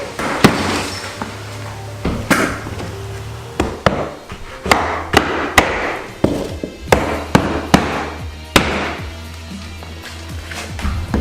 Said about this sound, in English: So this is a pneumatic nailer.